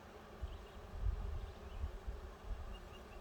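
Honey bees buzzing around an open hive during an inspection, a steady low drone with brief swells, close and moderately loud with no talking.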